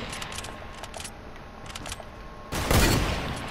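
Sniper gunshots in the Fortnite video game, a scatter of sharp reports followed by a louder burst of gunfire near the end, fairly close within game ambience.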